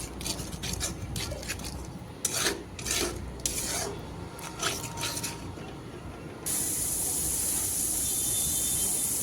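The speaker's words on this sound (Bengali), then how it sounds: "সব মশলাগুলো আমি আরও 3 থেকে 4 মিনিট কষিয়ে নিচ্ছি।" Spices with salt and turmeric are stirred and fried in a pan, with a series of rough scraping strokes that give way to a loud, steady hiss.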